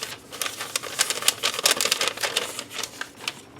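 Thin patterned tissue paper from a mixed media craft kit is crinkled and handled, producing a rapid series of sharp, crunchy crackles and rustles up close, coming in irregular bursts with no talking.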